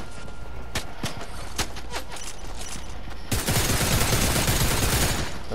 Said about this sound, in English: it's two people shooting at you